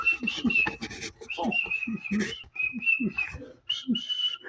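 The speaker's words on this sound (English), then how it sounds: "why are you whistling?" Someone whistles in sustained, high, steady notes in several bursts across the span, with a person talking underneath at close range.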